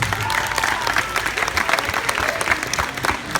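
An audience at a high school project graduation hypnotist show applauds, a dense, loud and sustained burst of clapping that fills the whole moment.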